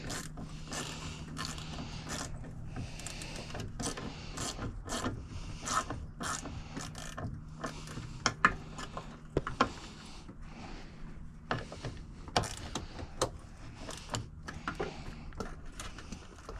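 A ratchet wrench works on a bolt of a 1982 650 motorcycle, a string of quick clicking and scraping mechanical ticks in irregular bursts, close and fairly quiet.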